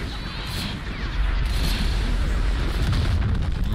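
Booming explosions from an orbital bombardment in a Star Wars video game, a dense rumbling barrage of blasts that swells louder partway through and keeps rolling steadily to the end.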